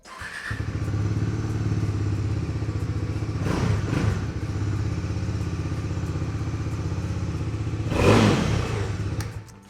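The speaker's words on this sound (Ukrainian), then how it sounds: "хотіли послухати, як е, працює мотоцикл, який у нього вихлоп" A 2023 Bajaj Dominar 400 motorcycle engine idles steadily with a low, throbbing exhaust rumble, punctuated by two brief louder revs or clattering bursts.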